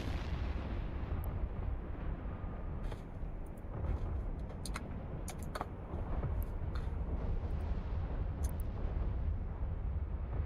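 Weapons fire and exploding battlecruisers in a space battle in EVE Online make a dense, continuous roaring rumble, with sharp bright bursts and crackles scattered on top and no talking.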